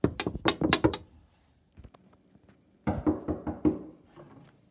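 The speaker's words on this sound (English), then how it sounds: "I'm just going to knock on the door." Knocking on a door, two quick bursts of sharp raps separated by a pause, close and fairly loud with light thuds in between.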